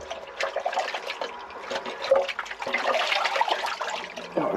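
A toilet flushes as a blockage finally clears, loud rushing and gurgling water swirling down the bowl for several seconds, close by and alone.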